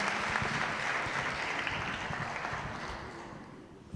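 Audience applause in a hall at a tribute gathering, welcoming the chairperson to speak, a dense, steady clapping that gradually thins and fades toward the end.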